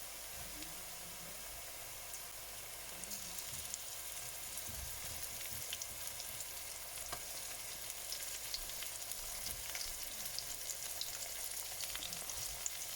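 Carrots and meatballs fry in a pan with a steady close sizzle and crackle that runs the whole time, with faint scrapes of stirring and no voices.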